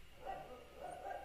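A pet dog barks in a home, a couple of short, muffled barks from another room, faint against a quiet background with no talking.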